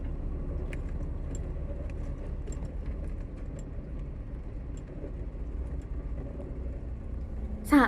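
Steady low engine rumble and road noise inside the Dream Sleeper overnight highway bus as it pulls away from Osaka Station, with small rattles and ticks and a brief louder knock at the very end.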